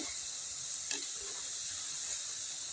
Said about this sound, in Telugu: తొందరగా డీప్ ఫ్రై అవుతాయి వెన్నగోళీలు